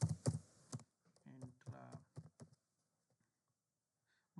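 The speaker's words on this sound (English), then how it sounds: "here in the search bar we just type" Typing on a computer keyboard into a search bar, a quick burst of close clicks and taps for about two and a half seconds, then quiet, with a voice briefly audible.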